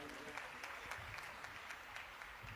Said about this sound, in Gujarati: આપણે આ મહાઆરતીને ખૂબ ખૂબ તાળીઓથી વધાવીએ